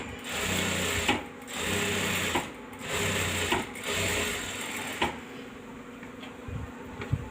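An electric sewing machine joins two embroidered blouse pieces, running in steady whirring bursts of about a second each, separated by short pauses, before falling quiet near the end, loud and close with no speech.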